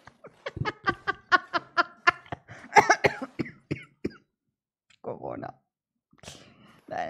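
A person coughs in a quick burst of roughly a dozen sharp, close coughs, followed by a few softer throat sounds and brief pauses near the end.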